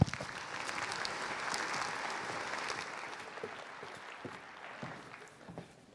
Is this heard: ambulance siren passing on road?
no